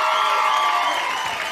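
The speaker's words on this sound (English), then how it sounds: "round of applause for James, everybody." Loud, dense crowd cheering and whooping fills the whole stretch at a school talent show, with children shouting over a broad roar that fades only slightly toward the end.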